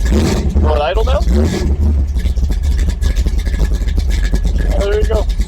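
A 1964 Chevy II, just started after a year in storage, idles with a steady low rumble beneath people chatting nearby.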